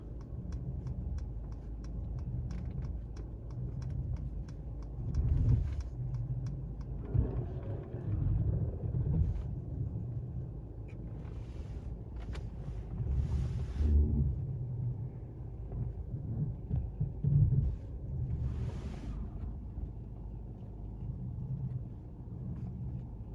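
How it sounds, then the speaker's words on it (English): A 2016 Mercedes-Benz E200 AMG Line reverses and parks itself using Active Park Assist, heard from inside as a low, steady engine rumble with soft shifting movements and a few faint clicks and high beeps, with no talking. "I just let the vehicle reverse itself and park itself"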